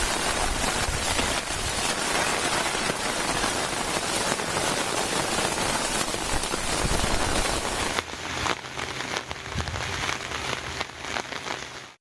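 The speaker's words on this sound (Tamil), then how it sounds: "டெல்டா மாவட்டங்களின் பல்வேறு பகுதிகளில் பரவலாக மழை பெய்து வருகிறது" Heavy northeast monsoon rain falls across the Tamil Nadu delta districts, a dense, unbroken roar of drops on surfaces that stays loud and steady throughout, easing slightly near the end.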